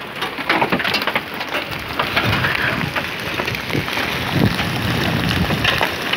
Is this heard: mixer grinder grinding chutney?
no